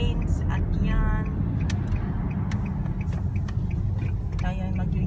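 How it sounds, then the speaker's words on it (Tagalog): Busy multi-lane road traffic, cars and buses passing steadily and fairly close, a continuous rumble with occasional brake hiss and horn-like tones throughout. "dumadami na ang mga sasakyan sa karsada"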